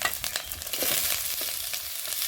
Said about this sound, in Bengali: এটা এরপর একটু ভেজে নিতে হবে।